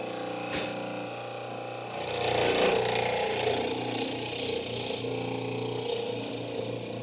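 Power drill boring mortise holes into a wooden stair railing for metal balusters, a steady close whine that grows louder midway as the bit bites into the wood, with a voice speaking over it.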